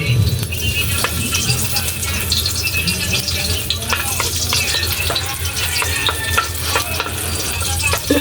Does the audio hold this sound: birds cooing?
no